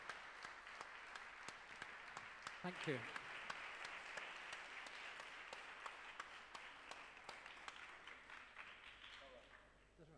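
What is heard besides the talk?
audience applause after a festival talk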